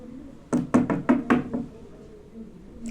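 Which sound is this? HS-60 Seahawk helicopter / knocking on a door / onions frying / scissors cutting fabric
knocking on a door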